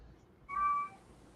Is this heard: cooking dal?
no